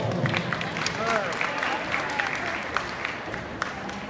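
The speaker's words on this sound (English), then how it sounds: "Let's give them a round of applause." An audience at a livestock show applauds, a moderate wash of clapping heard under voices and crowd murmur that holds steady for a few seconds.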